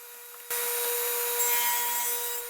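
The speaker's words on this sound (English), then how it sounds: "I'm using my standard Freud LU83 thin kerf blade and will make 2 passes to fit the spline" A radial arm saw fitted with a Freud LU83 thin kerf blade cuts wood for a corner spline, starting abruptly into a loud, sustained buzzing whine with a faint hum before the cut.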